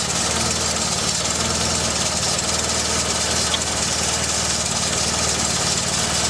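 A Volkswagen Golf Mk2 with a 1.6-litre EZ petrol engine idles steadily and close by, a continuous even mechanical hum with no talk over it.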